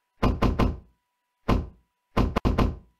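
Knocks on a locked door in the horror video game Kuro Oni: three quick hollow thumps, a pause, one more, then a final burst of three, loud and close with no talk.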